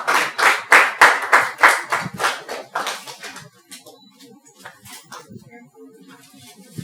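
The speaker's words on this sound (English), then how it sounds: "Please clap for her." Audience at a university creative club general meeting claps for a newly elected officer: a brisk run of fairly close hand claps that thins out after a few seconds into scattered quieter claps and murmuring.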